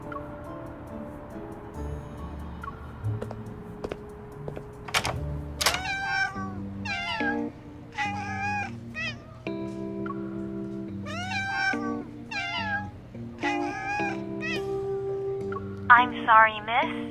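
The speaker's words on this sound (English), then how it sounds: "the constant meowing creeped me out" Repeated cat meows in a late-night cat cafe scene from the game Love and Deepspace, several clear mews in a row over a soft musical background, with a few light tapping sounds.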